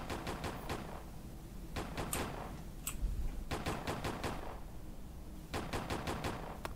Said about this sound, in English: Watch out! A hidden sniper is after you!